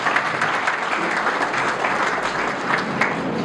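Audience applauding at a Muslim Friends Society annual awards ceremony in Nagpur, honouring forty prize-winning boys: dense, steady clapping from a large crowd, sustained evenly throughout.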